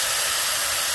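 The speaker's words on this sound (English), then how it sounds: "The airflow will stop reverse and it cleans out the hair dryer." Skymoon hair dryer running in its reverse-airflow cleaning mode, a steady, loud broadband whoosh of air held at a constant level throughout the second, with no talk.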